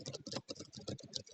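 Rapid, steady typing on a computer keyboard, close and fairly loud, a dense run of clicky keystrokes with a few brief pauses and no voices.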